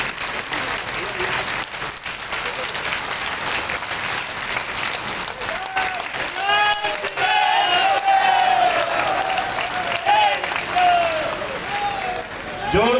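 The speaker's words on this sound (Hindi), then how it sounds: "जोरदार तालियां बजाते रहिए।" Loud, sustained applause from BJP party workers at a campaign workers' meeting in Biaora, Rajgarh, during the 2024 Lok Sabha election, with crowd noise and voices rising over the clapping in the second half.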